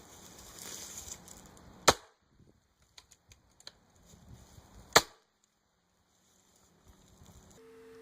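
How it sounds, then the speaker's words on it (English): A Gamo Urban pre-charged pneumatic .22 air rifle fires Gamo PBA pellets into a block of ballistics gel, giving two sharp, loud cracks about three seconds apart, with faint clicks and handling noise between them. "Next up is going to be the Gammo Urban, a pre-charged pneumatic 22."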